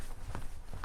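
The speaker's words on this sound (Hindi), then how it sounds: "कमरे के बाहर स्वप्निल को किसी की चलने की आवाज सुनाई दी।" Footsteps pass outside a hotel room door at night: a few soft, muffled treads in quick succession heard through the wall, faint and close.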